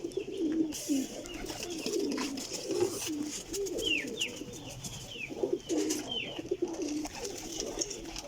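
A flock of pigeons keeps up a steady chorus of low, bubbling coos, with occasional higher chirps and small knocks nearby, close and continuous with no talking.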